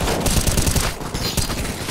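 Gunfire from CS:GO zombie escape aimed at a tree: a rapid, loud burst of automatic shots that rattles without a break for two seconds, close and alone.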